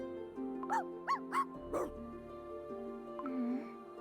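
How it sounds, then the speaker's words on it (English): A dog barks and yips several times in quick succession in the video game Cookie Run: Kingdom, fairly close, over a soft tonal musical background, then trails into a faint whine. "What's with all this barking?"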